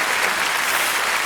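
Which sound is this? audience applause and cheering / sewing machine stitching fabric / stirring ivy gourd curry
audience applause and cheering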